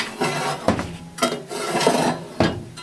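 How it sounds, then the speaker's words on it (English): A metal tool scraping soot and buildup from the side of a wood cook stove oven, several rough rasping strokes close up in a quick uneven rhythm, with no talking. "I'm going to run this down there and scrape off the side of the oven."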